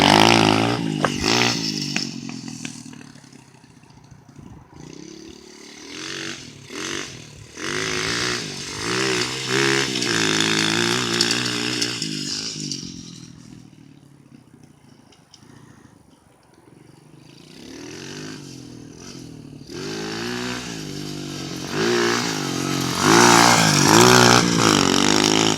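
A small Tahoe dirt bike revs and rides, its buzzing engine climbing and falling in pitch as it pulls away, fades into the distance, then roars back close and loud.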